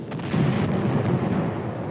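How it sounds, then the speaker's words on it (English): 81 mm mortars fire in wartime combat on the fortified Shuri line, a rumbling low boom swelling and sustained for about a second with faint distant crackle, muffled like old newsreel sound. "81 mortars pounded day and night."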